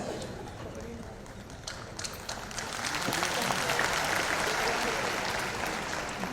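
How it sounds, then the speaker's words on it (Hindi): Applause from a crowd at an outdoor International Yoga Day celebrity event, a dense wash of clapping that swells louder midway, with voices mixed in. "बोलने के पहले ताली बजा दी आप सबको।"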